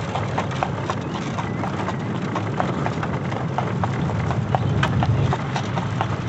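Steady clip-clop of Amish carriage horse hooves on a hard surface, a brisk even rhythm of several animals moving close by, with a faint whinny.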